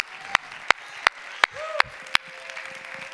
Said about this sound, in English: Somebody clap your hands to the Lord right now.